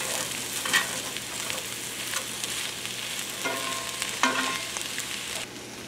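Scrambled eggs sizzle in a frying pan at a steady hiss while being mixed, with a few sharp scrapes and knocks from the utensil before the sound quiets near the end.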